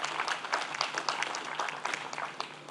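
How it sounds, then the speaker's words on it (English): A conference audience at a basic income congress plenary in Hyderabad breaks into brief, steady applause, many hands clapping at moderate distance with no voices over it. "she deserves applause"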